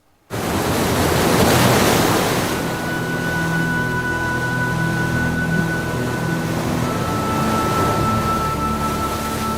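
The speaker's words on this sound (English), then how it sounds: "At Prout's Neck, his great subject was always before him, the sea." Ocean waves and surf wash steadily against the rocky shore at Prout's Neck, Maine, a continuous loud rushing roar that stays strong and broad for the whole stretch, with a faint steady tone running underneath.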